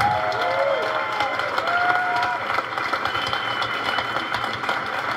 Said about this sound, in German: Und dafür danke ich euch mit einem Applaus